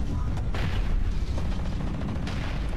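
Primary weapon of a mech in the Hawken video game with an Incinerator loadout, a loud, continuous roaring barrage of heavy rapid fire with booming impacts, with a voice briefly audible underneath.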